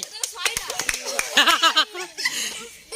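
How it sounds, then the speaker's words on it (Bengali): Children clapping their hands in sharp, uneven bursts during a counted exercise, mixed with giggles, chatter and shouting voices close by. "তালি হবে, তালি।"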